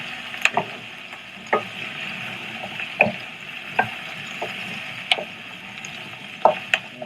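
Onions, carrots, celery and lemongrass sizzle steadily in a pan, with a constant frying hiss broken by sharp spoon-on-pan stirring clacks at irregular intervals, close up and without voices.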